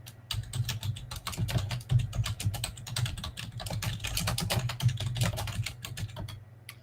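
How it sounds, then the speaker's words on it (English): Steady rapid typing on a computer keyboard, close and clear, with dense irregular keystrokes over a low steady hum and no talking. "But here, I'll type in his breed."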